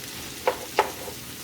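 Cabbage frying in a pan and being stirred, two short scraping bursts over a low, steady sizzle, close by.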